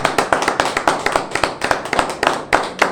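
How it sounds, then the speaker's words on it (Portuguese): A church congregation claps in praise of Jesus, rhythmic and loud in unison, sharp regular beats close by with little else beneath them. "Jesus merece uma salva de palmas."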